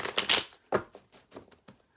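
Tarot cards being shuffled by hand, a dense riffle burst at the start followed by several softer, separate card slaps and flicks, close up with no talking.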